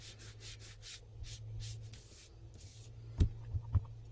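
A clean piece of material being rubbed over the lightest sections of a drawing: quick close scrubbing strokes in a rhythmic run, then a few soft taps at the end, with no talking.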